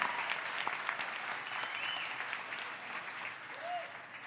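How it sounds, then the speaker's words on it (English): Steady applause from a crowd, clapping continuously at a moderate distance with no break. "give yourselves a round of applause"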